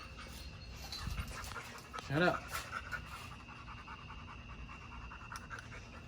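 A dog pants steadily and rapidly close by in a garage during a Q50 lip install, the quick breathing continuing throughout, briefly interrupted by a short vocal yelp as someone speaks over it.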